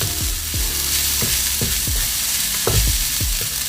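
Bean sprouts stir-fried in a hot pan for pork fried rice, a loud continuous sizzle broken by repeated rhythmic scrapes and knocks of the spatula.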